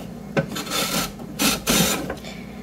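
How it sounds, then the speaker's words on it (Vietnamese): A small carrot speared on a fork is shaved into thin strips with a peeler, giving close, loud rasping strokes in a quick uneven rhythm, three or four scrapes in a row. "ghim vô trong cái cây cà rốt, rồi bắt đầu mình bào"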